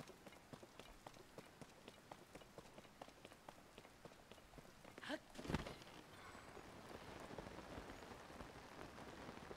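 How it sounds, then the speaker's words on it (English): Rain falls in the video game The Legend of Zelda: Tears of the Kingdom as a soft, steady patter, faint and continuous, with a brief louder rustle midway. "Now it's raining great."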